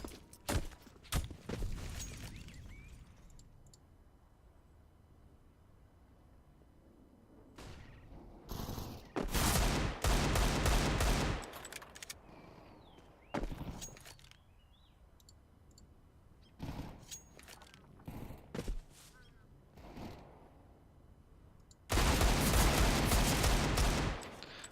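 Gunfire crackles in a first-person shooter game: sharp single shots and short bursts scattered over a quiet stretch, then a loud sustained volley near the end, with faint footsteps and clicks between.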